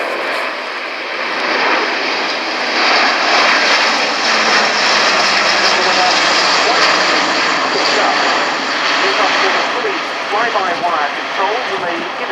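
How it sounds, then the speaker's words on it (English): An Airbus A400M at the RIAT 2018 air show flies past on approach with its undercarriage down, producing a loud, sustained turboprop drone throughout while a voice talks over it. "Here we see the aircraft coming down with undercarriage down in the dirty configuration"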